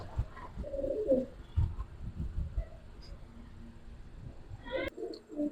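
A Giribaz pigeon coos in soft, low, throaty bursts, close by, over light rustling and handling noise, ending with a sharp click and a brief higher call.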